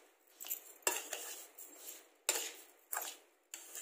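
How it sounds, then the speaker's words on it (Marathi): A spoon scraping and clinking against a bowl while stirring amla gooseberries with sugar, with several irregular sharp metallic knocks and scrapes, close and fairly quiet. "अर्धा किलोच वजनाची साखर टाकायची आपल्याला आणि चाकल्याने छान हलवून घ्यायचे"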